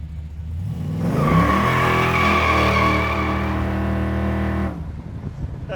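An 80s Monte Carlo with a junkyard motor, Turbo 400 transmission and 3,500 stall converter accelerates hard, its engine roaring loudly and climbing for about four seconds before the sound abruptly drops off.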